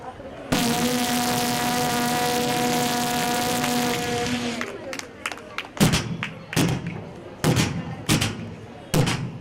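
A voice imitates a passing train, holding a long steady droning whistle-like tone, then breaking into rhythmic chugging bursts that repeat several times.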